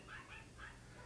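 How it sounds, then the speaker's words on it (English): Dogs bark and yip in the background, two or three short high-pitched bursts within a second, faint and distant, with no voices over them. "my dogs are barking in the background."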